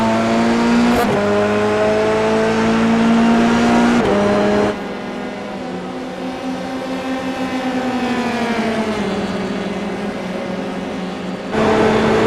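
Race car engines in a Formula 3 racing video game at Daytona, one car drawing alongside and overtaking another, with sustained loud high-pitched engine whine whose pitch steps up and down through gear changes.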